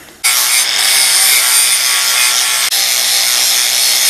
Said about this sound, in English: Ground my marks right off.